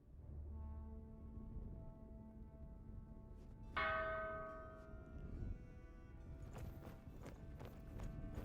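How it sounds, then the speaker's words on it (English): A bell struck once, a loud, ringing toll that swells over a low sustained drone and slowly decays as heavier music builds. "So, now the bell."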